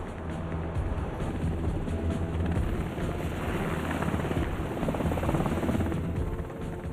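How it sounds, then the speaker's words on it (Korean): Helicopter flying over the aircraft carrier Ronald Reagan, a steady, loud rotor and engine roar with rhythmic thumping that holds throughout, no voices. "헬기도 수송을 지원합니다."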